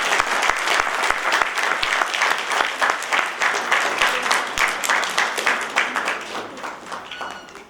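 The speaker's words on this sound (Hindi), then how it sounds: "तालियां बजाते रहें।" An audience at a university convocation in Uttarakhand applauds steadily, a dense, continuous patter of many hands clapping that fades slightly toward the end.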